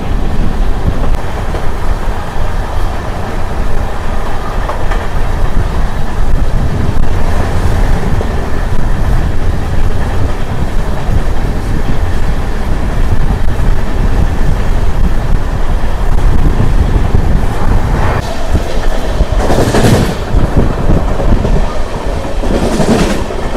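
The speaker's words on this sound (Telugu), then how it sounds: "ఇప్పుడు మనం వచ్చేసి షార్ట్పురం రైల్వే స్టేషన్ స్కిప్ అయితే కొడుతున్నాము." A Sabari Express LHB passenger train runs through Chirala-area railway station, with steady loud rolling rumble and clickety-clack of the wheels throughout, plus a few sharper rail bursts near the end; no voices.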